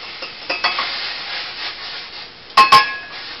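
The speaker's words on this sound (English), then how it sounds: "You put your cocoa into the water and stir it up real good" A spoon stirs cocoa into boiling water in a pot with soft scraping and sizzling, then two quick clinks against the side near the end.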